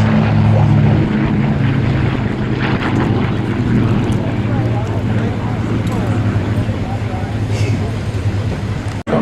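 Piston-engine P-51 Mustang warbirds, four of them, flying at the Flying Legends air show at Duxford, give a steady loud propeller drone with low harmonic hum that holds throughout, with a voice talking over it.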